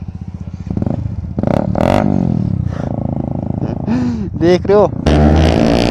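A motorcycle exhaust revs in a busy market, sputtering and popping near the listener with rising and falling throttle bursts, while someone talks over it throughout.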